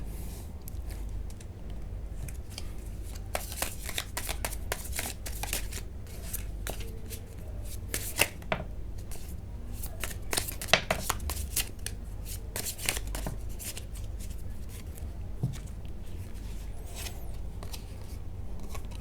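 Tarot cards being shuffled, a steady run of crisp riffling and slapping card sounds with sharper snaps scattered throughout, close and alone with no talking.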